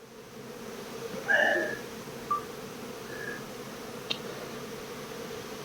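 Honeybees hum softly around an open, crowded hive during a Colorado beekeeping inspection, a low steady drone with a few brief louder buzzes as single bees pass close, plus a faint tick.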